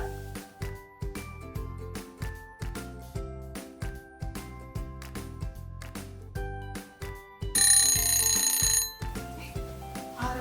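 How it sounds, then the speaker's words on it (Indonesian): A reminder alarm rings for online worship, a repeating melodic chime pattern in steady bursts, loud and near, ending in a brief buzzy ringing passage, with no voices. "Wah, ini alarm buat ibadah online, Del."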